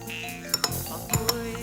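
Babybel cheese being stirred into a glass of Coke, a few light clinks of a utensil against the glass in two brief pairs, close and fairly quiet.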